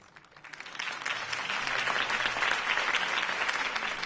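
Crowd applause after a campaign speech in the video game Batman: The Telltale Series, clapping that starts softly and swells within half a second into a sustained, even roar of many hands.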